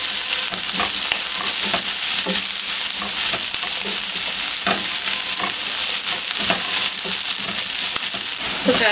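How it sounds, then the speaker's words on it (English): Ginger, garlic and onions frying in a pan for a Trinidadian vegetarian red curry, a steady loud sizzle with intermittent stirring scrapes, close up. "We're now going to add the ginger and garlic pieces and allow everything to soak"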